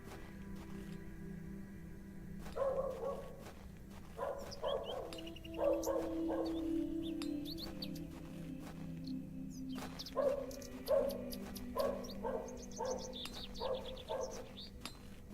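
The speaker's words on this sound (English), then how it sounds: "Whose dog is that? I don't know, but it needs to be quiet." A dog barks repeatedly in the moorland setting of the video game Hob's Barrow. It comes in two clusters of sharp, moderately distant barks over a low steady hum, with no talking.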